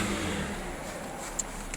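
A Mercedes E280 automatic engine runs at a dealership, a steady, fairly loud rev held evenly through the short stretch with no talk over it.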